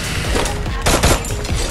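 Loud, rapid gunfire from a shooter video game crackles in dense bursts, with a heavier cluster of shots near the middle of the short stretch.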